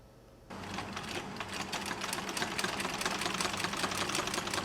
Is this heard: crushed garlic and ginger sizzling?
no